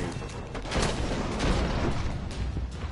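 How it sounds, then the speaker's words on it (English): Dense gunfire in the video game Destiny, a rapid burst of shots and booms heard loud and close for a few seconds with no talk over it. "you cannot take gunfire from all sides"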